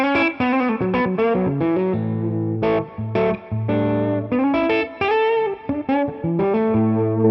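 An electric guitar with P90 pickups on a clean setting, full volume and tone slightly rolled off, plays a quick run of notes and chords, bright and slightly gritty, with short gaps between phrases and no talking.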